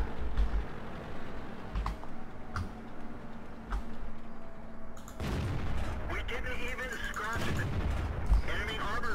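Cannon blasts from a T69 tank in World of Tanks, a loud burst of gunfire and explosive impacts erupting halfway through after quieter ticking battlefield ambience, with engine rumble and debris continuing.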